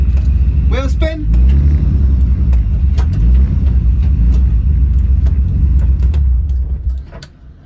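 A Nissan R33 Skyline spinning its wheels, a loud close engine roar and tyre rumble that holds steady before cutting out at the end, with people talking over it.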